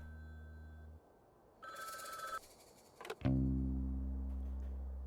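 In the Frog Detective 3 video game, a telephone bell gives one short, bright ring between quiet stretches. Other clicks and a low electronic hum follow.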